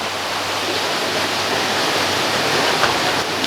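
A waterfall beside a riverside café in Mae Kampong village, Chiang Mai, roars in a steady, dense rush of falling water, loud and close, with no voices.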